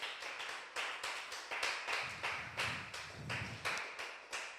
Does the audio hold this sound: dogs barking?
no